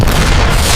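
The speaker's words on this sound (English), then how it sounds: "The first strike ruptures the main pipelines, a kinetic blow designed to cripple the flow of oil." A Tomahawk cruise missile striking an oil complex's main pipelines, heard as a single loud, close, broadband explosive roar that fills the whole short moment without any break.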